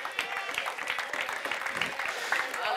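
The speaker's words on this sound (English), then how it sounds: "Give the Lord a hand clap of praise" A church congregation claps in praise, a dense, quick patter of many hands that continues steadily throughout.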